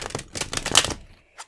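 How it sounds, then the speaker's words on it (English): Deck of tarot cards being shuffled up close, a quick burst of riffling and flapping card noise that trails off, followed by a single soft tap. "I'm going to put those back in the deck here and do a shuffle again."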